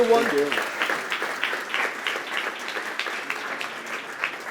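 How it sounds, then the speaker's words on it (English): Conference audience claps after a TV industry panel talk, a moderate patter of hands with distinct individual claps rising and falling in bursts, fairly close and without talk over it. "Thank you, Jarle and Ferdinand. Big applause."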